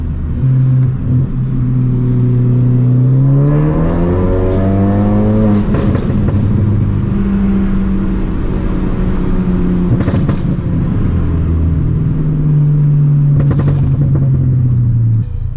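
A Ford Focus ST engine drones loud and close from inside the car while driving, its pitch climbing and falling through revs and gear changes, with a steady rumble throughout and no talking.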